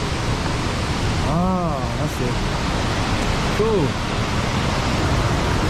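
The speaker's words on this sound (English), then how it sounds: "I can already feel the waterfall." A waterfall roars as a steady, loud broadband wash in a Vietnamese jungle setting, constant throughout, while a person speaks briefly over it with an exclamation in the middle.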